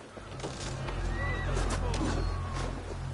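A horse in a video game neighs in a long, rising and falling whinny over low, steady game rumble, while someone talks faintly in the background.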